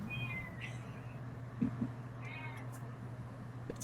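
A cat gives a few short, fairly faint meows, spaced apart over a steady low indoor hum, with no talk.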